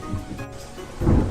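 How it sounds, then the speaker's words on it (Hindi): Monsoon rain falls with rumbling thunder, a low roll swelling loudly near the end over the hiss of steady rain. "अचानक बारिश हो ही गई"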